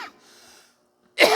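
A person walking past during a church service coughs in a short, harsh burst near the end, preceded by a brief faint exhalation and quiet room tone.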